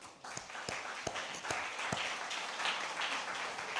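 A church congregation claps in applause, a dense, steady patter of many hands filling the room with a few sharper, louder claps standing out near the start.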